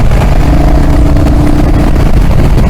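A Royal Enfield Hunter 350 motorcycle cruising in 5th gear, its steady engine drone loud and close under heavy rushing wind noise, with no break in the sound.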